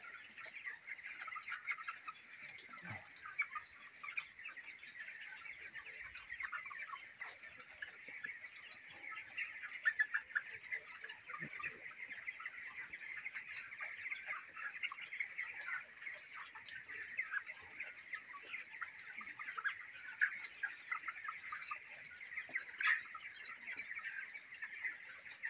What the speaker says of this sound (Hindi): अब मैं पहुँच चुका हूँ, तो मैं दिखाता हूँ ये चूज़े किस तरह